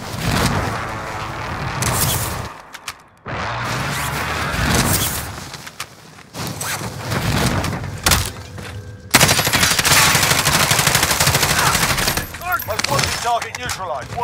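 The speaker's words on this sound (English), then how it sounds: "they're shooting at us" Gunfire crackles in bursts and single shots during a Call of Duty: Modern Warfare match, loud and close in places, broken by brief quiet gaps, with players talking over the shooting.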